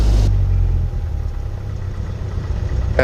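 A light training aircraft's piston engine runs up before takeoff on a cold day, a steady loud low drone with a throaty rumble that eases slightly after the first moment, then holds an even idle-like hum.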